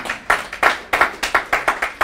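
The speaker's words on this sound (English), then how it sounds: "Clap for him." An audience at a university business school lecture claps in a steady rhythm of about ten sharp, close claps over two seconds.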